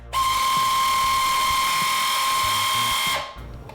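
A 1970s pottery wheel kit motor whirs loudly and steadily with a high-pitched mechanical whine for about three seconds, then stops abruptly, leaving a brief quiet tail.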